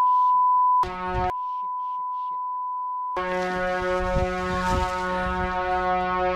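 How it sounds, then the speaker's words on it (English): The warning horn at Hartwell Dam sounds before a water release: a loud, steady tonal blare that holds, cuts off briefly, then returns fuller and louder with rushing background noise. "And you can hear that horn going off."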